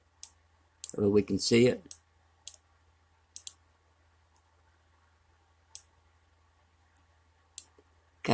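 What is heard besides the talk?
computer mouse clicking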